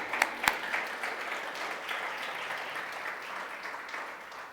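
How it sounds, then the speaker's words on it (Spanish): Church congregation applauding during a worship service, a steady dense patter of many hands with a few sharper claps near the start, holding evenly and easing off slightly toward the end. "Denle un aplauso al Señor porque Él es bueno"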